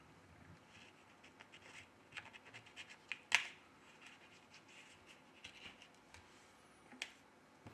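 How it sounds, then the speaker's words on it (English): A plastic card slides along the edge of a Xiaomi Mi Mix phone, cutting through the adhesive with faint, intermittent scratching and one sharper click partway through, all very quiet. "We use a plastic card to cut the adhesive."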